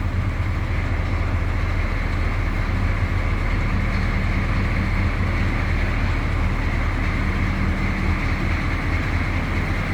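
A 1982 Chevrolet C10 Silverado diesel engine runs, heard from behind the truck: a loud, steady, low rumbling drone with an even, unbroken texture and no talking.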